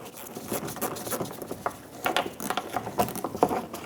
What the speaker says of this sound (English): Get a little screwdriver in there and remove the screw.